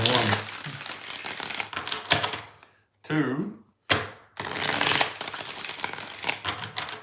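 Tarot cards are shuffled by hand in a few crisp, papery bursts of riffling and crinkling, close up, separated by brief pauses while a voice counts along.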